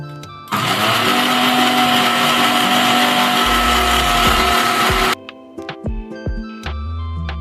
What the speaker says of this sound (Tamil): இதை நல்லா ஒரு ஃபைன் பேஸ்டா அரைச்சி எடுத்துக்கலாம்.